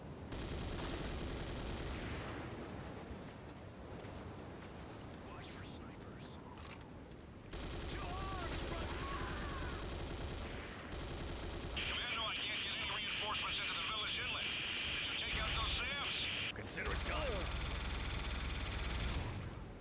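Minigun fire rattles in Command & Conquer: Renegade, a dense continuous stream of rapid shots with explosions mixed in, running under game voice lines and talk throughout.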